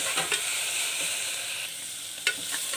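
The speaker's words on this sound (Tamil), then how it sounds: "அடுத்தது அரிஞ்சு வச்சுருந்த புதினா, கொத்தமல்லியை போட்டு அது கூட சேர்த்து வதக்குறோம்" Onions with chopped mint and coriander sizzle and fry steadily in a pan while being stirred, with a few sharper scraping clicks of the spoon, steady and close with no voices.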